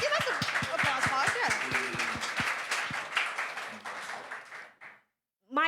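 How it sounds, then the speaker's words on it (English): Applause from a panel audience rises as a dense, sustained wash of clapping with a few loud nearby claps, accompanied by voices and cheers, then dies away into brief silence before a voice resumes. "That's an applause pause"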